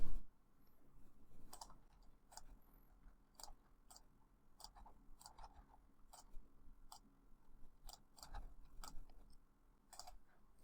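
Mouse clicks while selecting edges for a fillet in Fusion 360 CAD software: a dozen or so sharp, faint clicks at irregular intervals over quiet room tone, with no talking.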